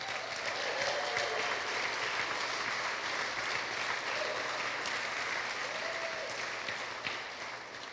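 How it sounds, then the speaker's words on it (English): An audience applauds at a city's state of the city address, a sustained, fairly even wash of clapping from a large crowd that fades slightly at the very end, with no speech over it. "I think deserves a huge round of applause."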